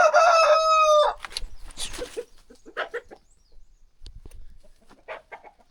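A rooster crows loudly and close for about a second, then scattered clucks and soft squawks follow with quiet gaps between them.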